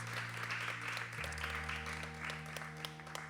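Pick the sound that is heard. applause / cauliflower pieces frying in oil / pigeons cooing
applause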